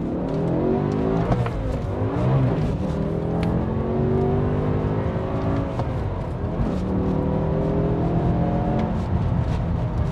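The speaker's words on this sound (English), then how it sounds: "The car has a cat-back dynamic exhaust, so it sounds amazing." A BMW E60 M5 with a cat-back dynamic exhaust, running in 400 horsepower mode, drones steadily and loudly from close by, rising and falling through several rev sweeps with no talking.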